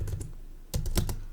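Close computer keyboard typing in short bursts of a few keystrokes, a brief flurry at the start and another near the end, with no talk.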